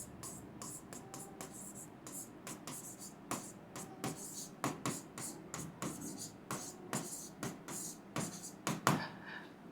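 Chalk or marker writing on a board during a physics lecture on gas laws, heard as a steady run of short scratchy taps and strokes at close range, with no talk over it.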